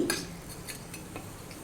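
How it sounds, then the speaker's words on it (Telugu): Potato and capsicum pieces being stirred in a kadai, a few short scraping clinks of a spoon against the metal pan, close and fairly quiet over a soft low background. "వీటన్నిటిని బాగా కలుపుకోవాలి"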